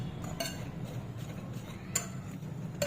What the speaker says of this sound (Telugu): ఇప్పుడు దీన్ని మంచిగా కలుపుకుందాం